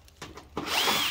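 A power drill spins up to remove the screws from the control panel of an air conditioner compressor unit, short bursts building into a loud sustained whir with a faint rising pitch.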